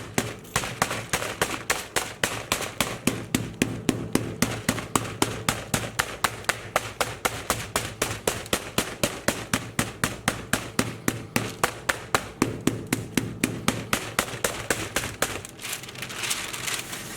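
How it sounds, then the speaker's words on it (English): Steady, rapid hammer taps through paper onto soft Persian sohan candy dough, dozens of evenly spaced knocks continuing for the whole stretch, close and fairly loud, with no voices. "All you're doing is just hammering it in."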